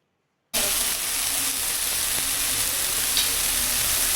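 Marinated Bombay duck (bombil) fish frying in a pan, a loud, steady, close sizzle that bursts in after a brief silence and crackles on without a break.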